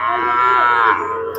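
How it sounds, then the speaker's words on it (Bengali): A Friesian calf at a busy cattle market gives one loud, close, drawn-out moo lasting over a second. "এই একটা বাছুর দেখা যাচ্ছে, ফ্রিজিয়ান বাছুর"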